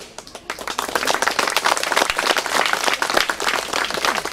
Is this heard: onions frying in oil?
no